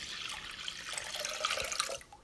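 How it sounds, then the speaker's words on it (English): Water pours into a greased crock pot in a steady splashing stream that fades near the end, with no talking. "And now I'm going to be adding my water."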